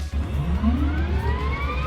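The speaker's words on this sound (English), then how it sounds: "That's the sound of a Hughes 500 starting." A Hughes 500 helicopter turbine spools up on startup, a rising whine climbing steadily in pitch over a low rumbling engine drone, close and loud.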